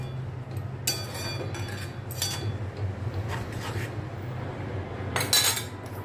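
A spoon scrapes and clinks against a pan while stirring pineapple chutney with lime juice, a few distinct metallic strokes over a low steady hum.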